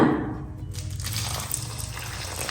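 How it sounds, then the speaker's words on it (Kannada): Hot water pours steadily into chapati flour in a continuous low gush for a couple of seconds, close by, with no talking. "ಸ್ವಲ್ಪ ಸ್ವಲ್ಪನೇ ನೀರು ಹಾಕ್ಕೊಂಡು"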